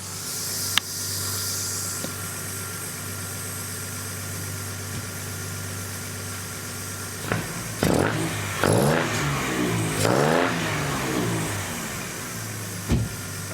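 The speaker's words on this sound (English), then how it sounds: "Let me just see if I can get you to hear this engine." A Jaguar engine fitted in an MGB GT settles at a steady idle, then rises through several sharp revs and drops back, the bursts loud and close with a hissy edge, running lean under throttle.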